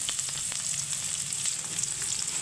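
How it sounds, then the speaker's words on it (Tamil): Two large onions sauté in a pan for a cauliflower egg curry, a steady close sizzle and crackle of frying with light stirring, continuous and fairly loud. "சேர்த்து நல்லா வதக்கி விடுங்க வெங்காயம் வதங்கிருச்சு"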